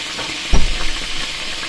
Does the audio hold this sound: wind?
no